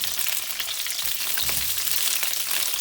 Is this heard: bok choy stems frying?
yes